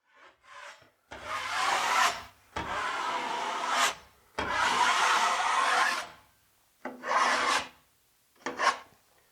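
Drywall joint compound being sanded by hand, with five or six long, rasping strokes separated by short pauses, close and fairly loud.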